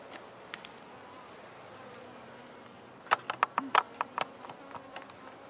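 Honeybees from a shrinking swarm in a hive buzz faintly in the background. Sharp close buzzes from individual bees passing near come in a cluster midway through.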